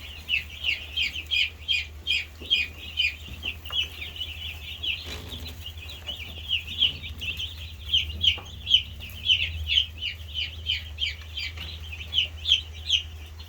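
Seven chickens in a chicken tractor on pasture cluck in steady, rhythmic bursts, close and fairly clear over a low background hum.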